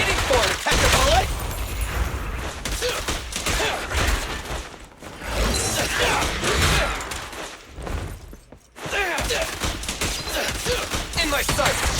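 Sustained gunfire and crashing impacts from Genshin Impact combat in the Pyro Archon Quest, loud and dense for most of the stretch, with brief lulls near the middle. Battle voices and music run beneath.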